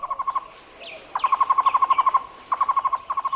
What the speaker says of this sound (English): This bird is the Tocororo, the Cuban Trogon, chosen as the national bird of Cuba.